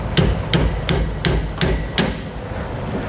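Steel hammer striking a drift to drive a bronze bushing out of a trailer leaf-spring equalizer on a 2022 Grand Design Imagine, six sharp metallic blows at an even pace, close and loud, with no talk.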